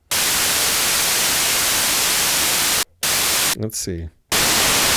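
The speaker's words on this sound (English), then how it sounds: "Blue noise seems weighted towards some of the higher frequencies." Blue noise from an Arturia MatrixBrute synthesizer, a loud, hissy, bright static wash cut by two brief gaps, with a short spoken phrase in one break.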